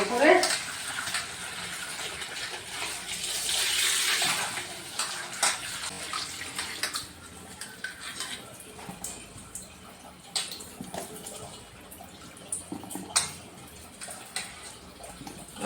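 Potatoes being washed in water in a home kitchen while a chicken gravy is prepared: splashing and swishing, loudest at first, then lighter rinsing with occasional clinks of a pot, with someone talking.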